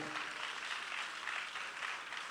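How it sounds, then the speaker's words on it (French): A congregation at a religious gathering applauding to acclaim the Lord, a brief, fairly faint patter of many hands clapping steadily without a break. "On acclame le Seigneur déjà."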